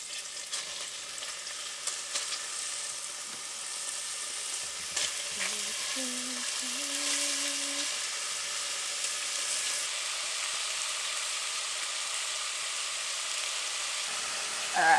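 Meat frying in a hot pan, a steady close sizzle and hiss that runs throughout, joined by a faint tonal whine midway, with no talk.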